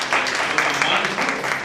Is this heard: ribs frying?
no